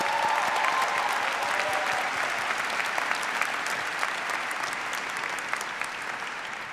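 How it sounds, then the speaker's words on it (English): A large commencement crowd at a university's 136th exercises applauds Pennsylvania Governor Josh Shapiro with steady, sustained clapping that fills the hall evenly throughout. "Even before uttering a word, you got applause."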